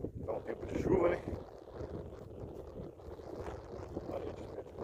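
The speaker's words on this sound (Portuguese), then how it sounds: "Tá um vento, gente, aqui. Tá ventando bastante." Wind gusts buffet the microphone outdoors at a rural farm property with laden fruit trees, producing low rumbling blasts and whooshes, strongest early on, while someone speaks over it.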